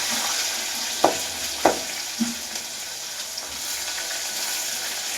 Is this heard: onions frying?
yes